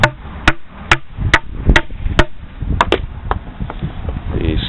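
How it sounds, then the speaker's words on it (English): A hammer raps a nearly cut-through 4x4 wooden post about nine times in a quick, uneven series of sharp, close knocks meant to snap off the cut piece. "tap it with a hammer right there while we hold it"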